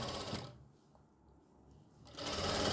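A sewing machine stitches the lining of a kameez, running in a loud close burst, pausing briefly, then running again with steady mechanical whirring.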